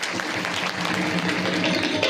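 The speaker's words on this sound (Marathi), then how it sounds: "म्हणून त्यांच्यासाठी एकदा तुम्ही जोरदार टाळी वाजवा" An audience at a kirtan claps loudly in a dense, continuous burst of applause that fills the whole short moment.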